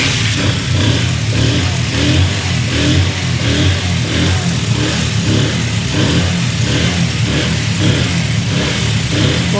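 A Honda 80cc motorcycle engine runs steadily and close by, its mid-pitched drone holding an even level throughout with slight revving pulses and no speech.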